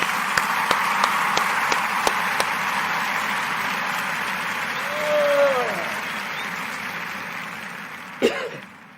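Applause during a daily toast show starts with a few sharp separate claps, then settles into a steady wash of clapping, with a brief sliding tone in the middle and a short loud burst near the end.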